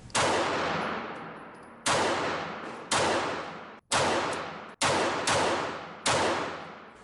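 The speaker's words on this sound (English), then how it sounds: "Let's try a little controlled rapid fire with a full magazine." Seven sharp pistol shots from a HEGE WAFFEN AP-66 .380 semi-automatic, fired in controlled rapid succession from a full magazine, each loud crack trailing off briefly before the next at a steady, slightly uneven pace.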